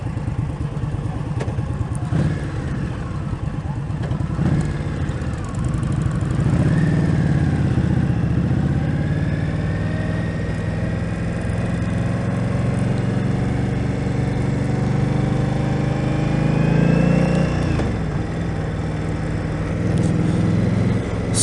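Indian Scout motorcycle ridden on pavement, its engine droning loud and steady, with rising and falling pitch as it accelerates through gears and eases off, under continuous road and wind rush.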